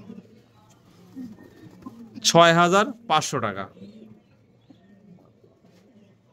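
Soft, low pigeon coos from a pair of racer pigeons offered for sale, faint and repeated at the start and end, with someone talking loudly in the middle.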